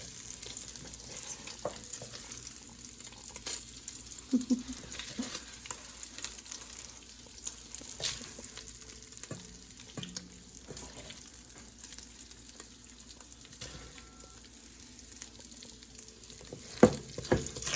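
Frozen vegetables frying in a hot pan, a continuous low sizzle with scattered scrapes and clinks of stirring, close and steady throughout.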